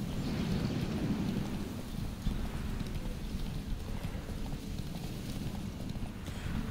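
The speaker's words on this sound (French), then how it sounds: "Allez, petit poney là." Horse hooves clip-clopping along a road in the video game The Witcher 3, a steady, continuous trotting rhythm under light wind-like background noise.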